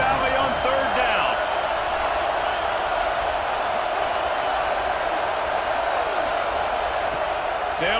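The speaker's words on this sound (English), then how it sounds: "Here comes the noise from this big crowd in Happy Valley on 3rd down" Huge stadium crowd in Happy Valley at a Penn State versus Texas football game on third down, a dense, loud, continuous roar that holds steady throughout without letting up.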